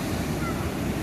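Sea waves wash up and surge onto Baga beach in Goa, a steady, close rush of surf mixed with wind noise buffeting the microphone.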